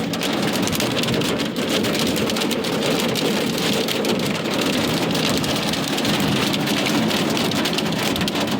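Hailstones pelting a window during a passing summer storm on a hot day, a steady dense patter of hard strikes that stays loud and continuous throughout with no voices.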